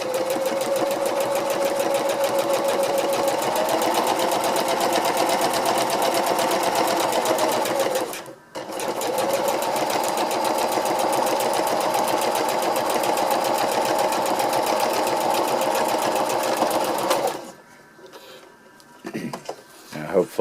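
A sewing machine stitches a tarp ridgeline seam from fabric cut-offs, a close, steady rapid whir that runs continuously, pauses briefly, resumes, then stops near the end with some handling noise.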